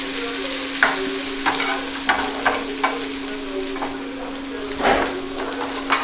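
Steady sizzle of eggplant frying in a pan with a low hum underneath, broken by several scraping stirs of a spatula at irregular intervals.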